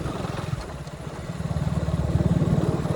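A KTM Duke 250 motorcycle engine runs steadily nearby with a low, throbbing pulse that grows slightly louder toward the end.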